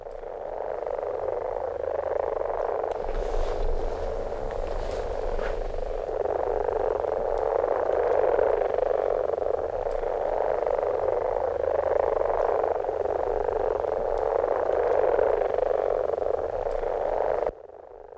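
A dense night chorus of common frogs croaks continuously, a steady overlapping throb of many calls at moderate distance with no voices, ending abruptly.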